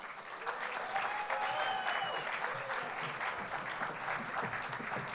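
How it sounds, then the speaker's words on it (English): Sustained audience applause fills a hall at an education awards ceremony, steady and dense throughout, with a few faint whistles or cheers rising above the clapping. "Let's give them a round of applause."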